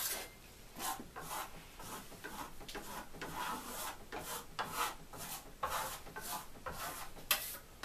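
Metallic Venetian plaster being rubbed across a wall, soft rhythmic scraping strokes repeating about once a second, faint and close, with no voices.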